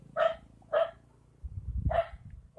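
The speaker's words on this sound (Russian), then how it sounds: "Это ты его учишь гавкать?" A mother dog with her pup barks at a passerby outdoors: three sharp, close barks spaced apart, with a low rumble between them.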